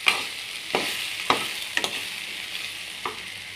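A spoon of cumin, a spoon of coriander seeds and four garlic cloves frying in a pan: an even sizzling hiss throughout, broken by several sharp spoon scrapes and clinks as the spices are stirred.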